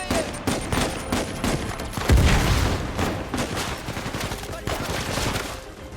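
Shotgun blasts and rapid gunfire ring out in the Uncharted 4 video game, a dense, loud barrage of overlapping shots and booms with a heavier blast near the middle, while people talk over it.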